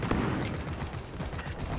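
Dense, continuous gunfire in the co-op video game Deep Rock Galactic, a loud unbroken barrage of overlapping shots filling the short stretch without a pause.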